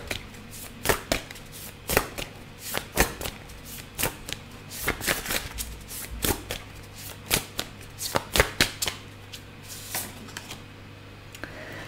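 Tarot cards being shuffled and drawn make a series of sharp, close, irregular slaps and riffles across the whole stretch, with faint talk underneath.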